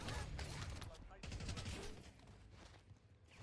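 Rapid hip-fire gunshots in Warzone, dense bursts of game gunfire in a loud, sustained clatter that briefly lets up before resuming.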